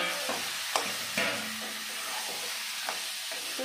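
Marinated chicken pieces hit hot fried masala for chicken do pyaza, giving a steady close sizzle with a few sharp stirring clinks, no voices.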